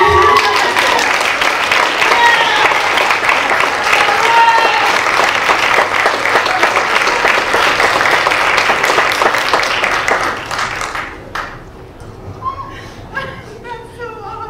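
Audience applause at a county heroin summit, loud sustained clapping from a crowd with some cheers and chatter, tapering off near the end as a voice starts speaking.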